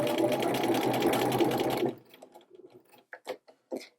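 Sewing machine fitted with a narrow hemmer foot stitching a rolled hem, running as a loud, steady whir for about two seconds before stopping, followed by faint clicks and fabric handling.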